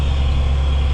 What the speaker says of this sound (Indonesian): suara dari knalpot ya